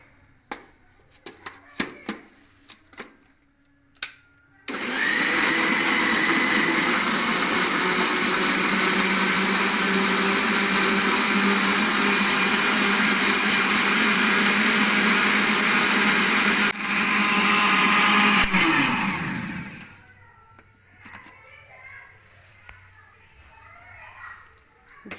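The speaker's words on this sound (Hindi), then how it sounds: "इसे 5 मिनट के लिए अच्छे से ब्लेंड करेंगे" An electric blender whirs loudly and steadily for about fifteen seconds, blending strawberries with sugar and lukewarm water, then winds down. Brief clatter and faint voices come before and after it.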